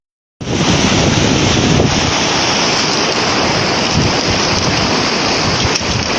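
Strong wind and rain buffet the microphone during a river crossing on the remote Península Mitre, a loud, constant roaring rush that starts abruptly and holds steady with no voices.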